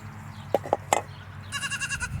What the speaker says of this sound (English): Little bucklings are out here along the garden fence yelling at me